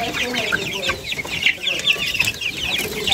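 Guinea fowl chicks on a poultry farm chirp in a dense, continuous chorus of high, overlapping peeps. The calls are close and fairly loud throughout.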